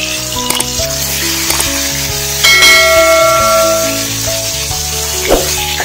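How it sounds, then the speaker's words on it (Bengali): Tilapia pieces frying in hot oil give a loud, continuous sizzle close by, with a brief surge as more fish goes into the pan and faint clinks of utensils alongside. "এক এক করে মাছগুলো ছেড়ে দেবো।"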